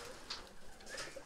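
Racing pigeons coo softly nearby, a few low throaty calls over a hiss of background noise.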